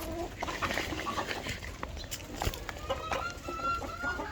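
Chickens and a white rooster cluck and call while pecking at pieces of bottle gourd in a yard, a steady busy patter of soft clucks with brief sharper calls, close and moderately loud with no talk.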